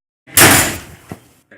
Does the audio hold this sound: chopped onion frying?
no